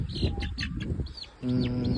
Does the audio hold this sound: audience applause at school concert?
no